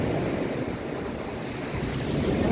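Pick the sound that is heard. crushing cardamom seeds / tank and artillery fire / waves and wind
waves and wind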